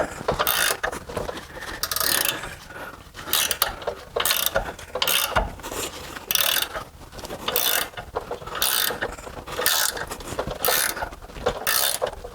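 Socket ratchet loosening long rear brake bolts on a 2013 Mercedes C300, a rapid run of close metallic clicking bursts repeating steadily with short pauses between strokes, loud and alone.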